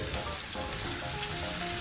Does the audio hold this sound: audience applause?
no